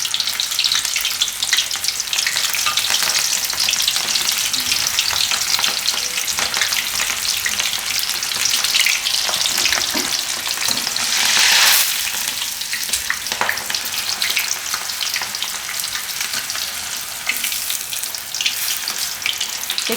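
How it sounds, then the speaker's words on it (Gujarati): Red chili strip bhajiya deep-fry in hot oil over a low flame, a dense, loud, continuous sizzle with crackling bursts and a brief swell of hissing partway through, heard up close without speech. "હવે આમાં આપણે તળી લેવું આને."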